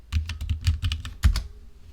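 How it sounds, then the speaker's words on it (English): Rapid keystrokes on a computer keyboard, about nine close, crisp clicks in an uneven burst ending with a heavier key press, then quiet. "I'm going to type in internet browser."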